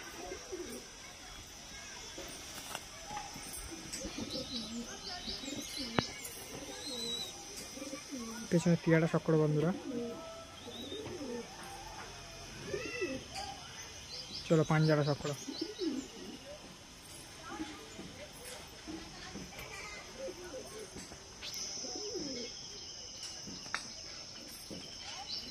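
Pigeons of fancy breeds, including a red-beaked Laljira, coo and call in a loft among chirping crickets and insects, with someone talking over the birds throughout.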